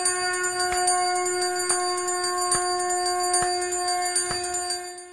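A temple bell rings repeatedly in a steady rhythm during Diwali worship, each strike leaving a bright, sustained metallic tone that lingers into the next.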